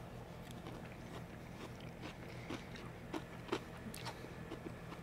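Crunchy bites and chewing of a tuna melt with melted cheese, eaten outdoors on a hiking trail, a few close crisp crunches over a steady low background.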